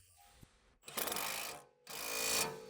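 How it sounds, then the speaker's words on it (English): An impact wrench with an 18mm deep socket tightens the strut-to-knuckle pinch bolt on a 2004 BMW 325ci E46. Two loud, close, rattling hammering bursts come one after the other with a brief pause between them. "Using the 18mm deep socket with the impact wrench,"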